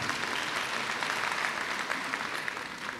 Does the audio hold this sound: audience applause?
yes